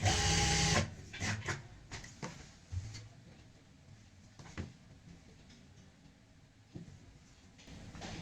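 A sewing machine stitching palazzo fabric runs in a short, loud burst at the very start, then falls to quiet scattered ticks and clicks of handling.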